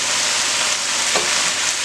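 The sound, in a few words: stir-frying low carb stir fry with ginger in pan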